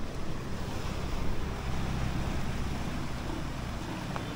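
Floodwater rushing after heavy rains in Bacolod, Philippines, a dense, constant roaring wash of moving water with wind buffeting the microphone, loud and close, with no talk.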